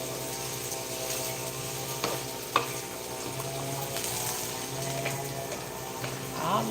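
Ampalaya (bitter gourd) with egg frying in a home kitchen pan, a steady low sizzle running throughout with a few sharp clinks of a utensil against the pan.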